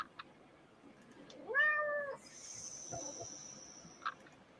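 A female cat gives a single clear meow lasting about half a second, close and fairly soft, followed by faint indoor clicks and a thin high-pitched whine.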